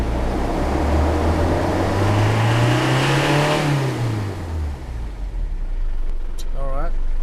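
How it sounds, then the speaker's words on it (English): A Holden Isuzu Rodeo with a lack of power revs up, engine pitch climbing and then falling back to idle, close and loud, with a brief voice near the end. "I'm gonna just rev it now"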